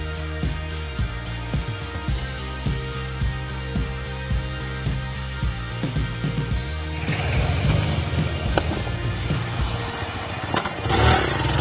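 A motorcycle idles with a rhythmic low engine thump, then revs and roars louder as it performs a nose wheelie and drift, with gritty tire and engine noise in the second half.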